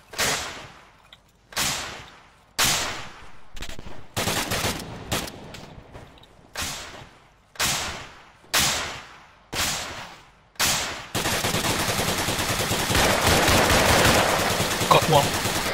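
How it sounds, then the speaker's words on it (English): Gunfire while a team takes incoming fire from the south: about eight separate loud bursts come at a regular pace, then a sustained, louder roar of firing continues to the end. "Taking fire from south."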